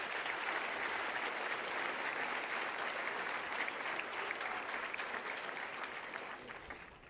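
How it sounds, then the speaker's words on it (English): Sustained audience applause fills a graduation ceremony hall at Brentwood College School, steady and dense throughout before tapering slightly at the end. "So a round of applause for those three in particular."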